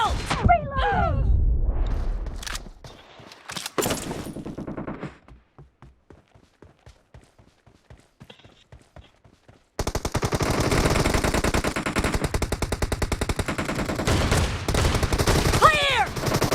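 Shotgun gunfire from an M1014 in a PUBG team deathmatch round, with loud repeated blasts, a quieter stretch of sparse shots and clicks, then a dense, sustained burst of rapid firing.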